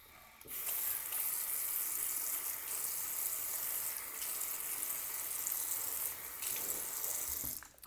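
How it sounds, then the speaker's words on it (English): Tap water running steadily over a new whetstone held under a sink faucet, a continuous close splashing rush lasting several seconds, then cutting off. "I'm going to rinse it real quick."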